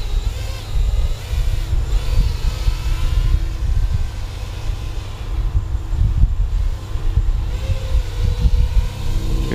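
A HobbyMate Comet ready-to-fly RC airplane's electric motor drones steadily under partial throttle, a continuous loud buzzing whine with a wavering pitch, heard alone with no talking.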